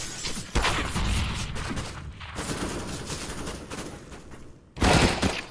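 Rapid gunfire rattles through a Counter-Strike match on the Inferno map, dense overlapping bursts filling the clip with a loud new volley near the end; no speech.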